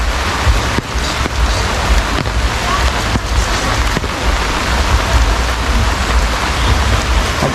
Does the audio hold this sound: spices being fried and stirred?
no